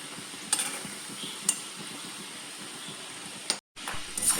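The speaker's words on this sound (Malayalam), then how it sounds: "നമുക്ക് 1 മിനിറ്റ് കഴിയുമ്പോഴത്തേക്കൊന്ന് പയ്യെ ഒന്ന് ഇളക്കി കൊടുക്കാം. ഇത് പെട്ടെന്ന് തന്നെ നമുക്കൊന്ന് ഫ്രൈ ആയി കിട്ടുക." Egg-coated peanuts fry quietly in a pan, a soft low sizzle broken by a few light scraping clicks as they are gently stirred, with a brief dropout near the end.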